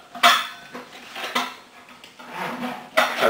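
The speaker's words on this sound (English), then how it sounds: "place it in the saucepan, lid in the saucepan, kettle upside down in the saucepan," Metal camping cook kit pieces, a lid and kettle, being nested into a saucepan: several sharp clanks and rattles of lightweight metal knocking together at close range, spaced irregularly.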